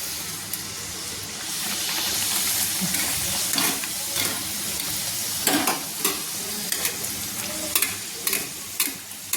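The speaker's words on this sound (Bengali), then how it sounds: "আমি ছেড়ে দিচ্ছি একটা ডালপুরি আমি ভাজার জন্য আমি ছেড়ে দিলাম দেখুন আমার সুন্দর ভাজা হচ্ছে" Chana dal puri deep frying in hot oil, with a steady bubbling sizzle throughout and sharper crackles and pops rising near the end. No voices.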